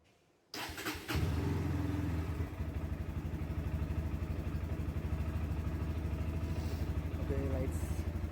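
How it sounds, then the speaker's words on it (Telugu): Bajaj NS160 motorcycle (2025, BS6) cold-starting, catching after a short crank and settling into a steady, close, loud idle with an even low throb; faint talk over it. "బిఫోర్ మనం చెక్ చేసుకున్న ముందు బండి కాసేపు కోల్డ్ స్టార్ట్ చేసి పెడదాం"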